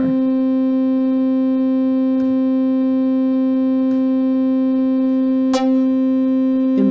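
A synthesizer tone built from combined triangle, sine and square oscillators holds one steady, bright, buzzing pitch for the whole stretch, loud and close, with no talk over it.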